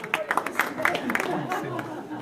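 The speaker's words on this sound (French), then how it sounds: "on peut l'applaudir" An audience at a presentation of the Jazz à Juan festival programme applauds the deputy mayor for education with scattered, moderately close hand claps under murmuring voices, faint overall.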